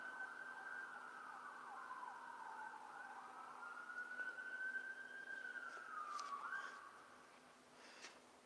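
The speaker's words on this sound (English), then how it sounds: "Ambulance." An ambulance siren passes at a distance, its wailing tone rising and falling steadily for several seconds before fading slightly, heard faintly in a quiet setting.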